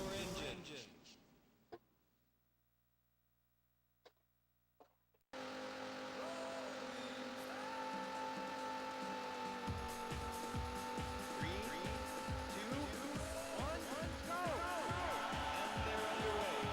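Race car engine revving up and accelerating in a Sega Saturn racing video game, a loud continuous synthesized engine whine with pulsing rhythmic tones and repeated tire squeals, starting abruptly after a short near-silent stretch with faint blips.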